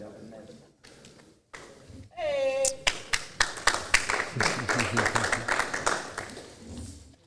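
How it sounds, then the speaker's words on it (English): A crowd at a wrestling match claps and cheers, with a steady patter of applause building after a brief shout, while voices talk over it. "The crowd out here is going wild."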